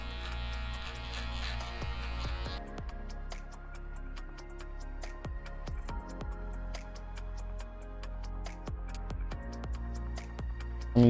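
Electric hair clippers with a number 2 guard cutting a skin fade buzz steadily up close, with repeated short crisp strokes and snips against the hair over a constant low motor hum.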